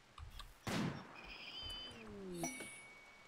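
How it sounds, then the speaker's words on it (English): Gunfire in the video game RimWorld: one sharp, loud shot bursts out near the start, followed by fainter ringing electronic tones and a second, smaller impact later, with no talking. "I heard the distinct sounds of gunfire"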